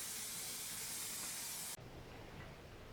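A spray can of cellulose almond green paint, used on Morris Minor dashboard parts, lets out a steady, close, airy hiss for nearly two seconds, then cuts off abruptly, leaving quiet room tone.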